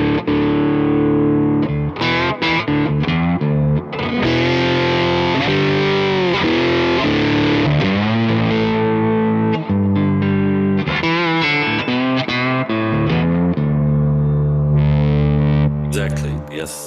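Clean electric guitar tone through a Kemper Profiler, strummed chords and ringing notes played continuously and loud, with a volume pedal in heel position; effects colour the sustained tone.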